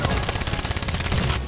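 Rapid automatic fire from a modded gun in Titanfall 2, a loud, dense burst of evenly spaced shots lasting over a second before cutting off abruptly.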